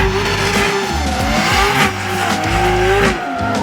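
Drift cars at the start line of a competitive drift event in Ireland roar loudly with revving engines and sustained tire squeal, the high whine rising and falling over a deep engine rumble throughout.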